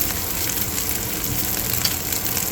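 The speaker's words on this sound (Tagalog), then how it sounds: "Niluluto po natin muna itong giniling natin na karne." Ground meat with garlic sautéing in a pan, giving a steady, even sizzle and crackle at close range that holds throughout with no talking.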